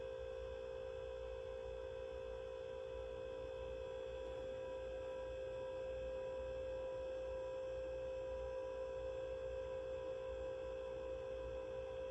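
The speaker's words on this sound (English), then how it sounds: "I'm sorry if y'all hear my fridge in the background." A household refrigerator gives a steady, low electrical hum with faint constant tones, running unbroken and quiet in the background with no voices.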